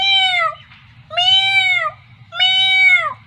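A human voice imitates a cat meowing, giving three clear, close, drawn-out meows with a falling pitch contour, evenly spaced and alone without talk.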